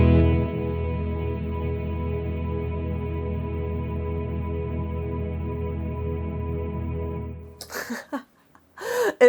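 An Alexander Space Force reverb pedal holds a sustained, shimmering wash of reverb that rings steadily for about seven seconds, then cuts out. A few brief bursts of talk follow near the end.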